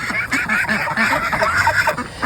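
Baby ducks and young geese on a homestead quack and honk in quick, overlapping calls, close by and continuous.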